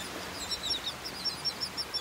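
Shore birds on a beach sandbar in North Naples, Florida give a string of faint, high chirps and calls at a steady spacing over a soft wash of surf and wind.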